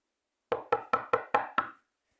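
Six quick, evenly spaced knocks strike a door, crisp and close, then stop in silence.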